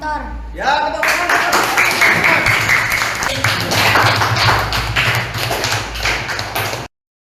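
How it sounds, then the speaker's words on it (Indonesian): A class of children in an Indonesian fifth-grade lesson claps hands together, a dense burst of rapid, close applause that starts abruptly after a short voice and ends sharply. "Ya tepuk tangan."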